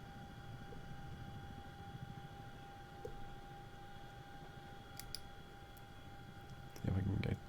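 Steady rotor and engine drone of a CH-47D Chinook twin-rotor helicopter in the X-Plane 11 flight simulator, a continuous low hum throughout, with a louder thudding burst near the end.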